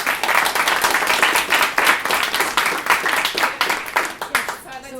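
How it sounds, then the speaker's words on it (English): Applause from the audience at an IAP2 BC public participation event, lively continuous clapping with a murmur of voices, tapering off near the end. "So round of applause."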